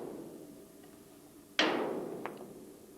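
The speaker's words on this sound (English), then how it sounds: "that needs to be just tapped up with a hammer" One sharp metallic clank as a hammer taps a car's front track rod end onto its taper, ringing briefly with a faint second tick after it, over a quiet garage background.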